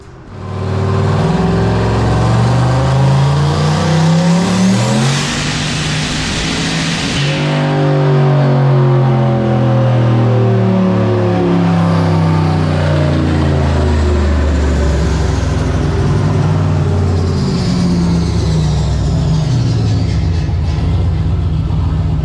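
A turbocharged, nitrous-fed Chevy engine screams through a hard dyno pull, climbing steadily in pitch from a loud roar to a high-revving wail before easing off, heard close and alone.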